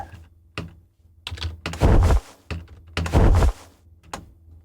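Designed wing-flap sound effect for a video game duck character, with a series of deep, whooshing thumps in uneven rhythm, two heavier flaps standing out among lighter ones, close and punchy with nothing else heard.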